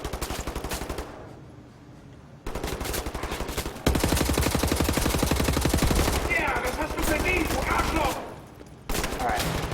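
Rapid gunfire from an AI companion in the shooter game Wolfenstein: The New Order, with long bursts of repeated shots that keep going for most of the stretch, loud against the game's background, with brief lulls between volleys.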